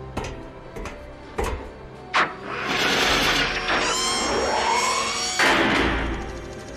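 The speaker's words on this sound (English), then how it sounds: "Let's fire up the engines, Dig." Spaceship engines fire up and run in a science-fiction audio drama, a few sharp clicks and knocks giving way to a loud, rising mechanical whine and roar that holds steady.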